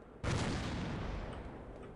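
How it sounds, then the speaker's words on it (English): A grenade blast in Half-Life, a single sudden boom that hits hard and then rolls off into a long fading rumble. "he threw a grenade again"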